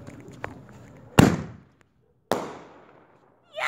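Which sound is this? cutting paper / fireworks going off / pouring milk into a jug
fireworks going off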